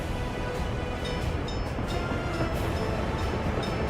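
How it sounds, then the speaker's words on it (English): A train rumbles past in the video game Tropico as a steady, dense roar lasting several seconds, with faint rhythmic clatter layered over it. "Now that's what I call train load."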